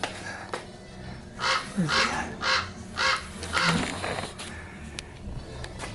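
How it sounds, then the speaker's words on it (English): A run of loud crow caws close by, several harsh calls in quick succession, with faint voices and clicks around them. "You know how loud these birds are?"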